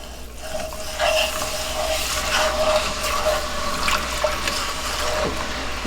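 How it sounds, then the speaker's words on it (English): Whole milk pours into a pan of flour gravy for country white gravy, a steady liquid trickle and splashing over low hum, with a few soft clinks and no talking. "let's just add some good old whole milk"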